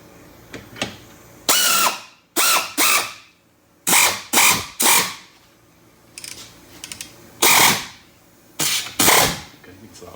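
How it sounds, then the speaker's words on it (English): A ball joint press forces an insert out of a 1978 Ford Mustang control arm, loud bursts of grinding, ratcheting effort come in repeated pulses with quiet gaps between them, close up. "I'm using my ball joint press. We're gonna press through to push that insert out."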